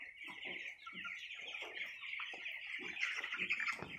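Twenty-three-day-old chicks on a poultry farm chirp and cluck continuously, a dense, fairly faint flock chatter with no voices.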